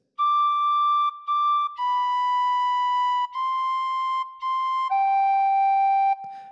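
Tin whistle playing a slow phrase of Silent Night, clear sustained pure notes close up, a series of held tones with short breaks between, no voices.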